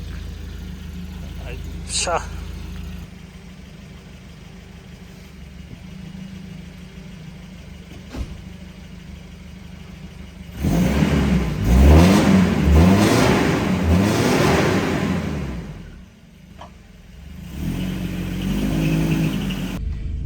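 An abandoned Volvo 242 car engine idles quietly, then rises into a loud revving burst mid-clip before dropping and picking up again.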